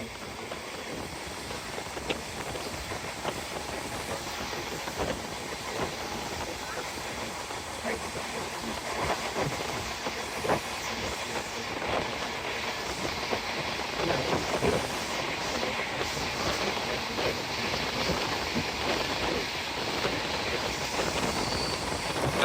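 A steady roar of the Rupshi Bangla Express in motion as it leaves Mawa railway station for the Padma Bridge, with continuous rumbling and rattling that swells slightly partway through, heard close from on board.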